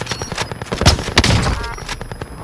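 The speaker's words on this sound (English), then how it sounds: "Ooh, someone's sniping." Sniper rifle shots in Call of Duty Warzone, with a few sharp, loud cracks standing out over a busy background of game noise in a short burst.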